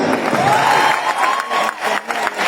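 An audience at a promotional event for the film Bhoyal applauds, a dense wash of clapping from a crowd with a faint tonal hum running underneath.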